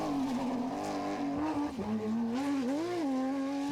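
A Porsche GT rally car races at the 2019 Belgian Rally Championship round in Ypres, its engine roaring loud and steady at high revs, the pitch dipping and climbing through gear changes as it passes close.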